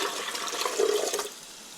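Chicken broth from cooking the chicken is poured into a pan for a Mexican dish, giving a short, steady liquid splash and gurgle near the microphone, alone, fading after about a second.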